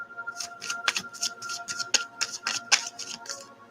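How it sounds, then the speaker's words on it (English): A deck of tarot-style cards is shuffled by hand at close range, giving a run of quick crisp riffling slaps and flutters, about a dozen soft bursts in under four seconds. "All right, one more shuffle."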